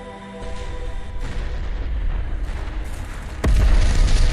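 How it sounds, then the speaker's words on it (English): Warship gunfire and explosions in the space combat game Freespace 2, heard as a rumbling barrage of booms. A sharp, louder blast near the end lifts the level into a heavy explosive roar. "Gunnery control, open fire."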